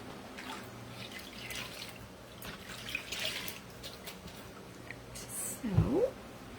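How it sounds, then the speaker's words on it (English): A fine mist sprayer puffs water onto a stretched canvas coated in glitter chalk paste, giving faint, soft hissing spritzes over a quiet room with a small clunk near the end. "And then I will spray it down with my fine mist sprayer."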